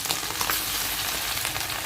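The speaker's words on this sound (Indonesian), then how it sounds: "Lanjut kita goreng daging selanjutnya." Beef pieces deep-frying in plenty of oil for dendeng badaruak, a dense, continuous crackling sizzle with bright popping spatters, close and steady throughout.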